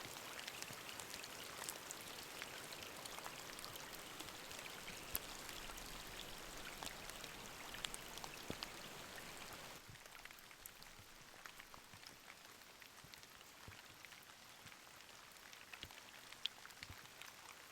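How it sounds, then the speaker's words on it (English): Heavy rain pours onto a tent during winter camping in a thunderstorm, a dense steady patter of drops that eases slightly partway through but keeps going, close and continuous with no voices. "It's still raining."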